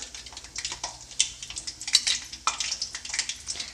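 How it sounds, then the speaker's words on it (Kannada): Chana dal and mustard seeds fry in hot oil in a pan while being stirred, giving a soft crackling sizzle with irregular scraping and light clinks of the spoon. "ಕಡಲೆಬೇಳೆನ ಒಂದು ಸ್ವಲ್ಪ ಫ್ರೈ ಮಾಡ್ಕೊಳ್ತೀನಿ"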